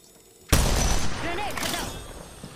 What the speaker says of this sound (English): Some people shooting at me.